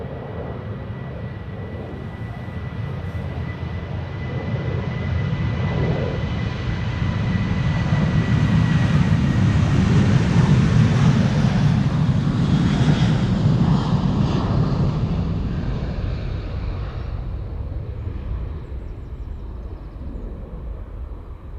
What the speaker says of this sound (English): This is KLM flight 927 to Edinburgh,